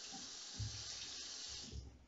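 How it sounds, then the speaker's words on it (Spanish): Water runs from a bathroom tap while washing the face, a quiet, steady hissing stream with faint splashes and gurgles underneath, heard alone. "Primero abrimos el grifo."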